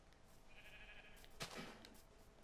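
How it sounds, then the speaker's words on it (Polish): A sheep bleats faintly in Minecraft, one short wavering call followed by a brief thump amid low game background noise. "Owieczka mała tam była."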